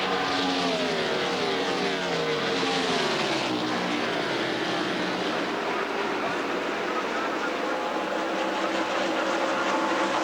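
NASCAR stock cars roar past on the oval at the 2001 Winston All Star Race, a dense, loud engine drone with sweeping pitch changes as the pack goes by, and a commentator talks over it.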